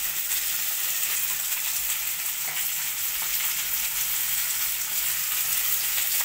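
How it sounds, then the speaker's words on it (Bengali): Chopped capsicum frying in a pan, a steady, dense sizzle that holds evenly from start to finish with no voices, for a chilli baby corn dish. "তো ক্যাপসিকামটা দিয়েও আমি একটু ভেজে নেব।"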